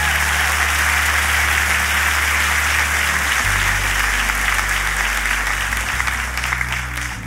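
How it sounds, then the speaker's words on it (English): A church congregation claps in sustained applause, a dense, loud wash of hands that holds steady throughout over a low sustained musical tone. "Come on, clap your hands if you're excited."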